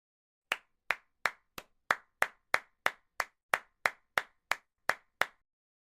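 Hands clap at a sprint review meeting, about fourteen sharp, evenly spaced claps in a slow steady rhythm, with nothing else heard between them.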